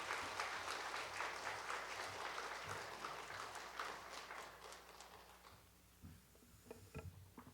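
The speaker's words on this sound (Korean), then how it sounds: "우리 목사님 나오실 때 우리 박수로 같이 환영하면 좋겠습니다" A church congregation at a women's mission devotional service applauds to welcome the pastor, a dense burst of clapping from many hands that fades gradually over several seconds into a few scattered claps at the end.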